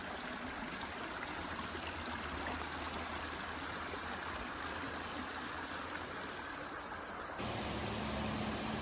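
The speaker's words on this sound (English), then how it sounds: "This waterfall is beautiful. Only interrupted by the interstate traffic you can hear." A constant rush of a waterfall on the Appalachian Trail dominates, with a low rumble of interstate traffic blended underneath, steady throughout with no voices.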